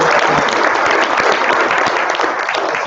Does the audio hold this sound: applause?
yes